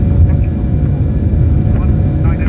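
Engines of an Antonov An-124 Ruslan cargo jet just after takeoff give a loud, steady low rumble heard from the cockpit. Crew voices come and go faintly over the drone.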